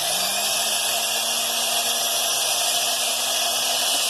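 A steady, high-pitched rotary tool whine as an inverted cone bit carves stone, grinding continuously, with a faint rising pitch underneath and no pauses throughout.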